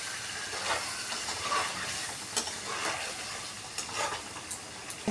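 Potatoes cooking in a pan with beaten sour yogurt and sugar give off a steady, moderate sizzle and hiss, with soft scraping stir sounds scattered throughout and no talking.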